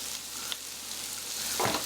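Potatoes frying in bacon fat with garlic salt and black pepper, a steady soft sizzle with a slight stirring scrape and a brief louder crackle near the end.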